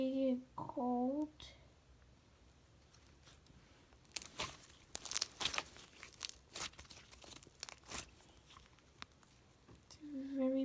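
Crunchy, glittery gold slime is squished and crackled by hand in close, bursty crunches and pops through the middle, with someone talking at the start and end.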